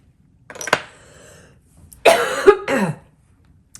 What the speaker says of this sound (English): I'm having the most horrible coughing fit